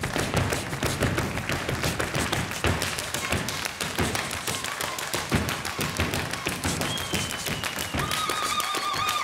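Stage performance of a Hungarian clapping folk dance (tapsos): dense rhythmic claps and foot stamps fill the whole stretch at a loud, steady level, and a few faint sustained musical tones come in near the end.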